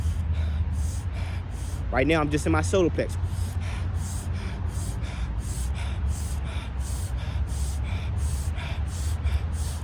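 Forceful, rhythmic breaths during chakra meditation, sharp and close, repeat at a steady pace of roughly one per second, while someone speaks briefly over them.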